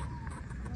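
Village chickens brought from Ramechhap clucking briefly, a quick faint run of clucks set against low background noise.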